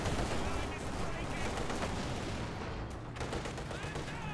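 Gunfire crackles through a Company of Heroes 2 battle, with sniper shots among dense bursts of small-arms fire and explosions, loud and continuous with sharp cracks near the middle and end.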